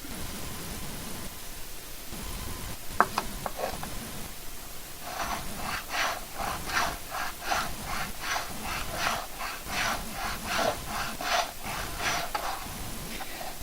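A file worked back and forth over a small wooden part, a run of rhythmic rasping strokes close by, preceded by a few light knocks.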